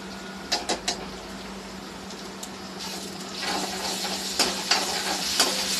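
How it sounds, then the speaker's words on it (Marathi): Ginger garlic paste dropped into onions frying in oil, a steady sizzle with a few sharp crackles and stirring scrapes, growing livelier toward the end, close by with no talk. "आता आपण 2 चमचे अद्रक लसूणची पेस्ट टाकूया."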